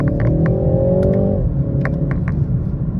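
Engine of a G20 BMW 330i accelerating, its sound artificially enhanced through the speakers: a steady in-cabin drone with a rising tone that drops back after a gear change, with light clicks over it.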